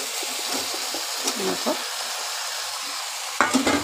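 Bottle gourd pieces fry with shrimp and tomato in a pan, giving a close, steady sizzle with intermittent stirring scrapes and a sharp clatter near the end.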